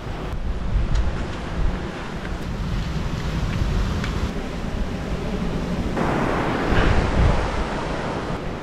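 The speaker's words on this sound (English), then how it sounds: "Huge waves." Large ocean waves crash on a rocky shore in a steady, loud roar with wind buffeting the microphone, a heavier surge building toward the end.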